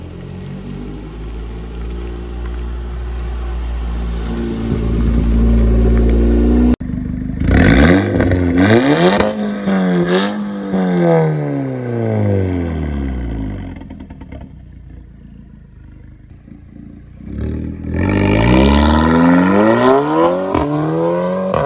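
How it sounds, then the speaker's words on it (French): Volkswagen Golf 6R with Stage 2+ tuning revving hard through its exhaust after an initial steady idle, with several sharp throttle blips and rising and falling engine sweeps, loud and close, then a final burst of revs. "on enchaîne tout de suite avec le son à l'échappement"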